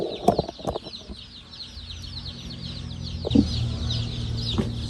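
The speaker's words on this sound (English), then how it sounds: "roughly 600 chickens" Chickens cluck in a flock of about 600 pasture-raised birds on a small farm, with close, overlapping clucks and calls, a couple of sharp louder squawks near the start and a soft rustle of wings in the background.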